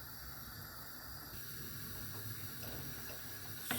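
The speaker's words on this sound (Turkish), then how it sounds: "Suyum kaynıyor." Steady hissing, bubbling noise of water boiling in a pot close by, for blanching mulberry leaves, continuous and fairly quiet with no talking.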